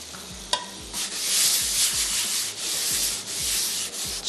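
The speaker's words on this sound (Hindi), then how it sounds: "हरी प्याज का जो वाइट वाला पार्ट है वो ऐड करके हल्का सा उसको फ्राई करेंगे" Garlic and the white parts of spring onion fry in oil, giving a continuous hiss with scraping and stirring strokes, a sharp knock near the start, and repeated low rubbing sweeps.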